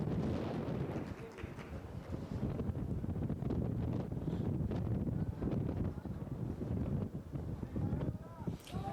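Strong wind at a football match buffets the microphone in a constant loud roar, with indistinct voices underneath.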